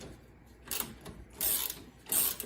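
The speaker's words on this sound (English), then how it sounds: "I'm still trying to strip this bolt off even with that flare nut wrench" Flare nut wrench turning a stubborn bolt on a Yamaha YXZ side-by-side during upper control arm replacement: three short, close metallic ratcheting scrapes, each lasting under half a second, separated by brief pauses, with no talking.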